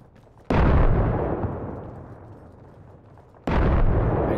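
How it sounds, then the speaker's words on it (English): Two loud, close grenade blasts in Arma Reforger: the first booms at half a second and rolls into a long decaying rumble, and a second sharp explosion bursts about three seconds later, with no talking. "Oh, he's throwing a grenade here, grenade pin pull."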